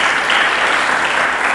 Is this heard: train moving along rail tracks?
no